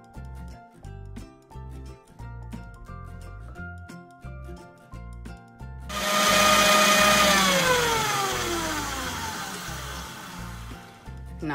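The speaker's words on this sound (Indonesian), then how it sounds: "saya blender ini kasih halus." A Ninja blender blending cheesecake ingredients switches on midway, a loud, steady whirring roar that slowly drops in pitch as it runs, following rhythmic background music.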